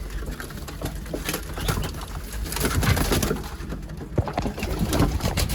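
A sick pigeon coos and flutters close by while held by hand, amid scuffling and handling noises, with irregular soft thumps throughout.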